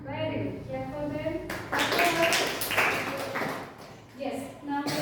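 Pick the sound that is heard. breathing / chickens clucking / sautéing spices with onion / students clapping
students clapping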